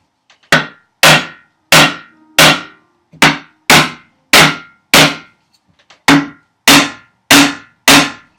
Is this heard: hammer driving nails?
yes